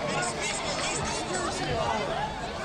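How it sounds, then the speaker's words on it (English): Constant crowd roar and chatter from the stands at a high school football game, loud and steady throughout. "as this crowd gets loud, those refs throw that flag"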